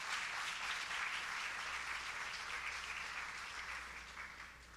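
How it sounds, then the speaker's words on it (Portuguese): A church congregation applauds in a steady, faint wash of clapping that sounds distant and slowly fades toward the end. "Aplauda o Senhor aí, irmão,"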